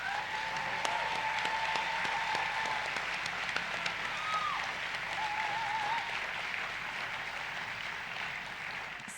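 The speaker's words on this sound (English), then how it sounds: "Let's give them another round of applause." An audience at a Grade 12 farewell ceremony claps steadily for the graduating students, a dense, sustained round of applause heard from within the hall, with faint background voices.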